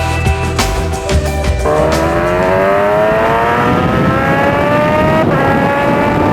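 A supercharged Kawasaki Ninja H2 motorcycle engine revs hard and loud, its pitch climbing steadily through gear changes with brief dips between shifts.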